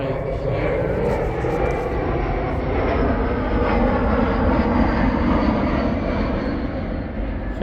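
A United airliner passes overhead at a campsite, a broad loud roar of jet engines rumbling steadily throughout and swelling slightly midway.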